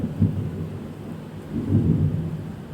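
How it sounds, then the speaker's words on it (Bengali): Heavy rain pours steadily on a Rath Yatra festival day, with low rumbles of thunder swelling twice, near the start and again toward the end, and no voices. "রথের দিন রথে প্রচণ্ড বৃষ্টি হচ্ছে"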